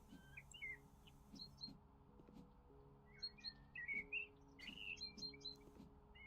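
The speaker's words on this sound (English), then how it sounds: "what is up with those loud ass birds?" Loud birds chirp and tweet in the House Flipper video game, bright repeated calls in short bursts over a steady low background hum, with no talking.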